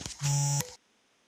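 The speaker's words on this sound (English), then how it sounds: "whose phone is going crazy?" A phone chimes with a notification: one short, bright electronic tone, close and clear, then silence, with no talking.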